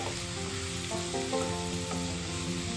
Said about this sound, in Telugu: ఆకులు కూడా కొంచెం ఆయిల్లో ఫ్రై చేయాలి.